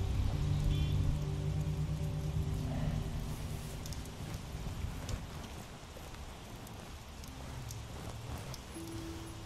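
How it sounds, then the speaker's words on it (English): Rain falling in the video game The Wolf Among Us, a steady broadband hiss with faint low tones beneath it and no talking. "And it's raining on him."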